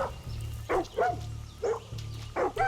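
A dog in the Far Cry 6 video game barks repeatedly, about six sharp, loud barks at an uneven rhythm over a low rumbling game background.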